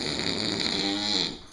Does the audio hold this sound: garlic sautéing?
no